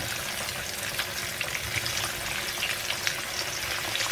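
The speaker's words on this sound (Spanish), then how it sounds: "el aceite ya está caliente, así que vamos a ir friendo los filetitos rusos" Russian meat patties frying in hot oil in a pan, a steady dense sizzle and crackle with no pause, close and fairly loud.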